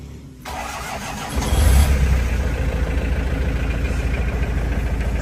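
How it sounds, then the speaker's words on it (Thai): A diesel L300 pickup engine turns over and catches, settling into a loud, steady low rumble that keeps running throughout. "เนี่ยเสียงเครื่องยนต์ดีเซลโดยเฉพาะเลย"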